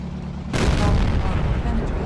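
A single heavy cannon shot from a tank striking the mantle of an E-100 in a video game, a loud booming blast that rolls into a sustained rumbling roar, with voices talking around it.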